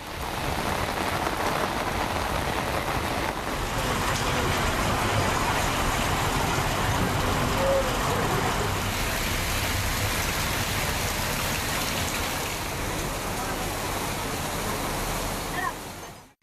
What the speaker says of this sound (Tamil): இதனால் சாலைகளில் மழை நீர் பெருக்கெடுத்து ஓடியது.